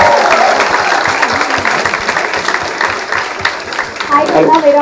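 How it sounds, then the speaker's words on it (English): Applause for the anchors at a Swachh event gathering, a crowd clapping steadily for about five seconds with voices mixed in. "I think a round of applause to the anchor guys."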